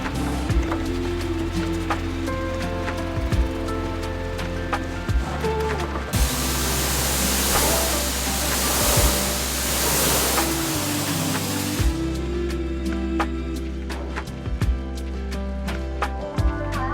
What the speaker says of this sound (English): it was then given a final pressure rinse down